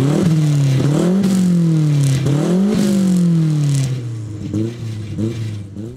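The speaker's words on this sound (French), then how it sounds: "À l'arrière, une seule sortie d'échappement, celle-ci est modifiée, c'est une ligne d'échappement Miltech." Ford Focus RS Mk1 with a modified Miltech single-exit exhaust revving loudly in repeated rising blips, each burst climbing then dropping back, before settling to a steadier, quieter rumble near the end.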